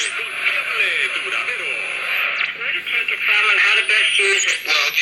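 A vintage Toshiba radio is tuned across the band, giving a continuous loud wash of static with whistles and sweeping tones shifting as the dial moves, and broadcast fragments and voices flickering through.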